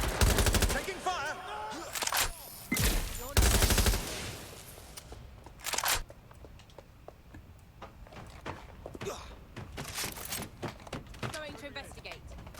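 Bursts of automatic gunfire and single shots in the video game Watch Dogs Legion, several loud volleys early on, then scattered quieter shots and clatter under game sounds.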